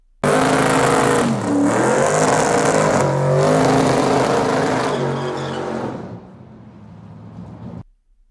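A Dodge Dart Super Stock Hemi drag car roars hard under acceleration, its loud engine rising in pitch through several gears before fading away into the distance at the end.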